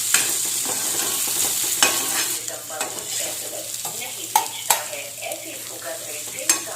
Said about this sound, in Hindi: तो ये सब्जी कर रही हूँ मैं गरम करके सैंडविच में भरो तो सही रहती है।